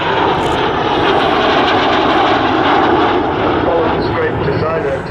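Folland jet aircraft flying past at an airshow, a loud continuous engine roar that fills the whole stretch with steady broadband noise.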